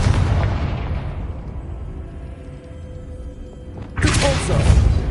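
Confringo spell explosion in Hogwarts Legacy, a sudden loud blast bursting out near the end after a rumbling low background, close and heavy.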